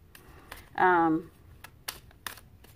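A deck of cards riffles in one brief, close shuffle lasting under a second, followed by a few soft taps and snaps of the cards being squared, with quiet speech nearby.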